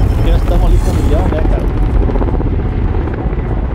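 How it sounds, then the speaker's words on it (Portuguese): Loud, rumbling helicopter rotor and engine noise from Call of Duty: Modern Warfare Warzone, with rough low-end roar and whooshing over a few seconds. "Tem que pegar o helicóptero, pegar o helicóptero."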